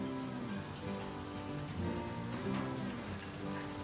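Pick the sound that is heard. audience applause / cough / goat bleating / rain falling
rain falling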